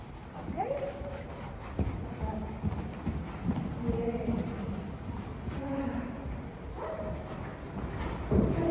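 Young horse trotting in a riding arena, hoofbeats soft and muffled on the footing in a steady rhythm, with a rider's voice talking over it and a dog barking now and then in the background.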